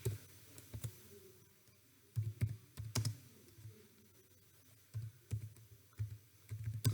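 Java code being typed on a computer keyboard, with clusters of quick clicking keystrokes in short bursts separated by pauses, close and fairly quiet, no talking.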